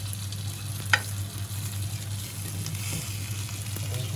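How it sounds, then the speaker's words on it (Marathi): Bangda (mackerel) fish frying in a pan, with a steady low sizzle throughout, one brief sharp clink near the start and quieter scrapes later. No one speaks. "बांगडे परतून झालेले आहेत"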